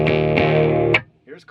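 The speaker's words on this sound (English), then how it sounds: "let's hear how it sounds with some distortion" A heavily distorted electric guitar chord, played through a distortion pedal on a guitar with vertically mounted pickups, rings out for about a second, then cuts off, followed by a short faint noise.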